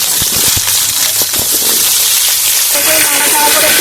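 Raw papaya and potato pieces drop into a hot pan of spiced oil with green chilli, radhuni and bay leaf, giving a steady loud sizzle with a few clatters as they are stirred.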